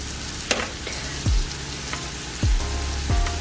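Vegetables for a creamy tuna casserole sizzle and fry steadily in a pan as they cook down, with a few sharp clinks and scraping stirs breaking through the constant crackle.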